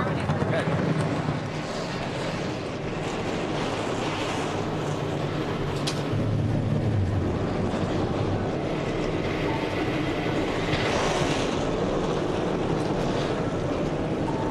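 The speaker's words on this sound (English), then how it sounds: "And the trucks are underway here at the Pocono Raceway." NASCAR truck engines running as the field gets underway at Pocono Raceway, a steady broad roar of many engines at a distance, continuous under broadcast commentary.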